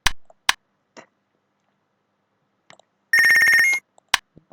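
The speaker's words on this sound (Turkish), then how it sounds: "telefon." A phone ringtone sounds in one short, bright electronic burst of rapid repeated tones. Sparse clicks and taps come before and after it in an otherwise quiet room.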